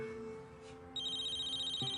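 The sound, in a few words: cell phone ringing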